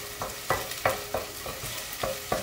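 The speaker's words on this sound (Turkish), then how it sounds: "Şimdi onları bir yağda kızdırıyorum güzelce." Onions frying in oil in a home kitchen pan, a steady low sizzle broken by regular scraping strokes of a spoon stirring roughly every third of a second, close by with no talking.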